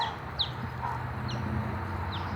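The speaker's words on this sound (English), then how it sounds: "I did hear a little chick." A few brief, high chirps from a little chick, faint over a steady low rumbling background, with chickens nearby.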